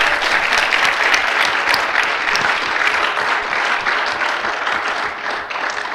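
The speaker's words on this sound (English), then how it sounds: "Let's give a warm round of applause to our presenters" An audience applauding presenters at a philosophical society debate, a dense, loud, sustained round of clapping from a full room that thins slightly toward the end.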